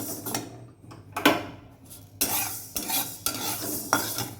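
Lentils being stirred and dry-fried in a pan, a series of close scraping stirs with utensil clatter against the pan and a light sizzle between strokes.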